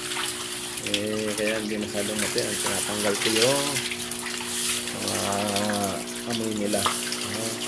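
Water gushes steadily through the outlet of a tank holding 110-day-old African catfish, a constant rushing flow heard under someone talking, with melodic music in the background.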